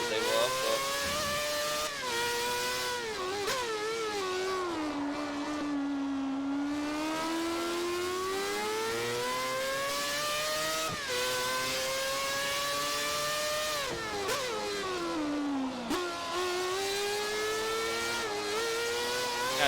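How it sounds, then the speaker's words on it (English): Racing cars from Forza Motorsport 4 drone and whine continuously, engine pitch rising through the gears and dropping on shifts, with a few sweeping flybys; steady, loud game audio without talk. "you get to listen to a couple of flybys as well while we wait for the AI to finish"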